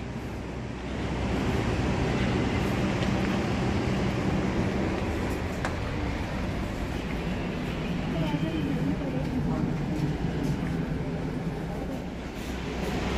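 Cikuray train riding along, heard from inside a premium economy class 2 carriage with 80 seats, a continuous rumbling, rushing roar with faint rattles, with voices talking over it throughout.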